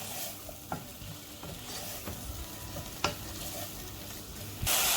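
Chicken pieces frying on high flame with black pepper and salt, a quiet steady sizzle broken by occasional scrapes and clicks of a spoon stirring the pan, close and without talk.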